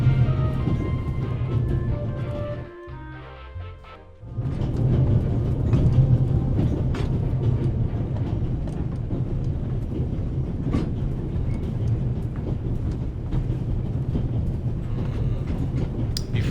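The Orient Express in The Raven Remastered rumbles along in a steady, dense low roar with faint rhythmic rail clatter, briefly dipping before resuming.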